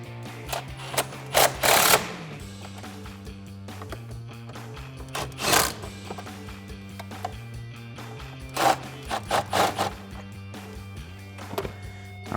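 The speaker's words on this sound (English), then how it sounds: "I'm switching over to a 5/32 hex socket to make life a little easier here" Bolts are tightened with a 5/32 hex socket during installation of a tuning module on a 2019-2021 RAM 1500 5.7L V8: several short bursts of ratcheting and driving, with pauses and knocks between them, heard up close.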